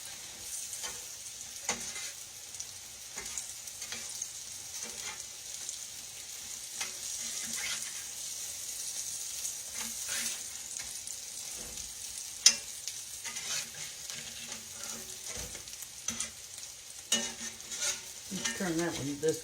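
Crab cakes fry in a little grease in a pan, giving a soft, steady sizzle with scattered crackles and pops, and occasional clinks and scrapes from a utensil.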